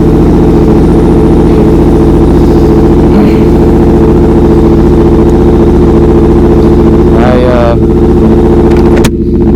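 A Yamaha R1 sport motorcycle runs loud and close throughout with a steady, droning engine note, and a brief rising rev swells near the end.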